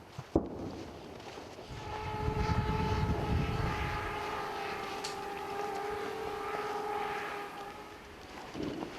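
A military drone buzzes overhead near the front line in Ukraine, a steady droning hum with sustained tonal whine that persists throughout, after a sharp thump at the start.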